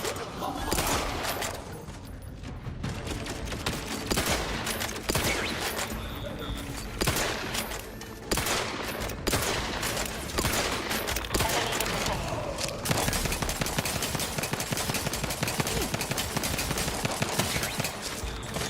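Dense, sustained gunfire in a combat fight in The Outer Worlds 2, overlapping shots and bursts rattling nearly nonstop, with occasional voices heard under the shooting.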